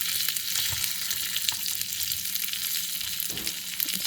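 Bacon sizzles and crackles steadily in a skillet on a breakfast cooker, with occasional soft scrapes as it is stirred, a dense close frying hiss throughout and no talking.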